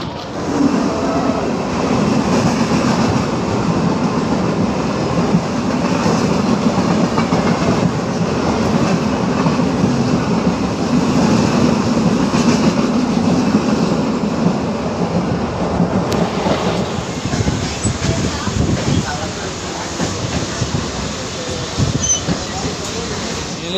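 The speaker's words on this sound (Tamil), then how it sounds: "நம்ம மெட்ரோவில் ஏறியாச்சுங்க" A metro train in Chennai rumbles and rattles steadily along the rails, with clickety-clack of wheels and a low roar, voices faintly mixed in.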